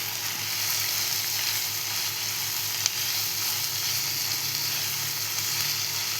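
Onion sautés in a pan for a chicken gravy, giving a continuous, even hiss of frying at close range with one faint clink and no talking.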